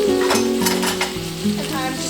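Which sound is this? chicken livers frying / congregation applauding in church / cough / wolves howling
chicken livers frying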